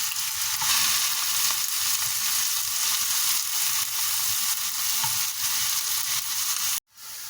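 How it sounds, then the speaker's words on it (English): Carrot frying in oil gives a steady, loud broadband sizzle that holds without a break for about seven seconds, then cuts off abruptly near the end. "And the carrot. In the oil for 7 minutes."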